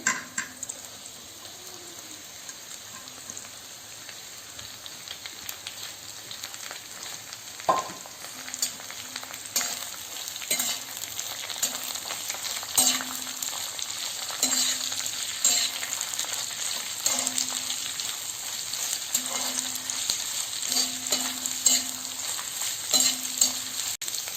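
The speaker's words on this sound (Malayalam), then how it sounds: "പച്ചമുളകെല്ലാം മൂത്ത് കഴിഞ്ഞിട്ട് നമുക്ക് അതിനകത്തോട്ട് സവാള ഇട്ട് കൊടുക്കാം." Onions and green chillies fry in oil in a pan for a Kerala-style mutton roast, making a continuous sizzle with occasional stirring scrapes and a brief clatter, close and fairly quiet, without speech.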